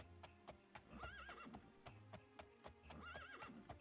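Rhythmic clip-clop of horse hooves in The Elder Scrolls II: Daggerfall trots steadily, with two whinnies rising over the hoofbeats, clear and close.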